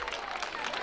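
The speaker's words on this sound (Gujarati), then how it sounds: "આપણી સૌની ફરજ થાય છે કે તાળીઓના ગડગડાટથી આપણે વધાવી લઈએ." An audience at a school annual function applauding a child who won third place, a dense, even wash of clapping from many hands, brief and moderately loud.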